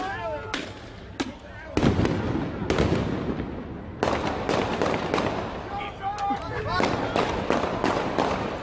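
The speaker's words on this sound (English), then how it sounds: "So those are the gunshots we just heard." Sharp gunshots crack out in irregular bursts over a noisy police radio recording with voices in the background, some shots in quick succession.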